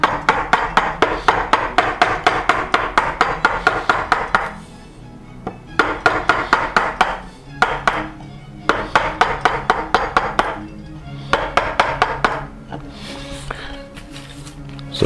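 Rapid bursts of mallet-driven gouge strikes as a 1 inch No. 5 gouge chops a cove into wood for a gooseneck molding, sharp repeated knocks in steady runs of a dozen or more, separated by short pauses.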